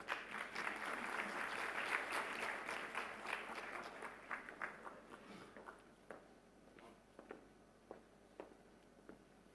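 An audience applauds to welcome a speaker to the stage, a full burst of clapping that gradually thins out to a few scattered, separate claps near the end.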